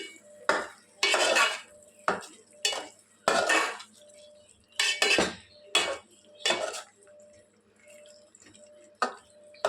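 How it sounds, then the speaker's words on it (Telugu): A spoon scrapes and clanks around a metal pot while fried eggs are mixed into egg biryani, in about a dozen close, loud bursts separated by short quiet gaps, with no talking. "ఆఫ్టర్ 2 మినిట్స్ తర్వాత మనం ఫ్రై చేసి పెట్టుకున్న ఎగ్స్ని యాడ్ చేసుకోవాలి. ఇప్పుడు మొత్తం ఒకసారి బాగా మిక్స్ చేసుకొని"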